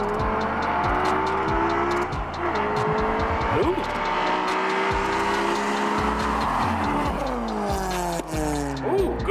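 A BMW and a Camaro run a 20 roll street race, with loud engines roaring and accelerating hard throughout and several rising and falling pitch sweeps as the cars shift and pull, under intermittent talk.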